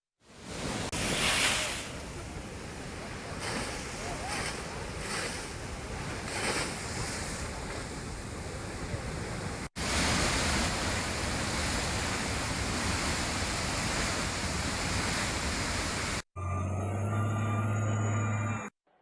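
Water released from a pump house after its motor is switched on, Sita Rama project irrigation works in the Godavari district, rushes in a loud, steady broadband roar with no talk, broken by short cuts near the middle and end.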